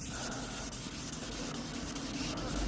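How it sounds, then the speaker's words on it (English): Wet sanding on a car's paintwork, a continuous soft scrubbing rasp with faint rhythmic strokes, close and quiet. "wet sanding the whole car"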